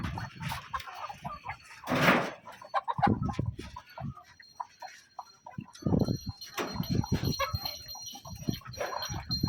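Country hens in a poultry shed cluck and squawk in uneven bursts, some close and loud, others farther off, with scattered rustling and a brief burst of noise in between, with no talking.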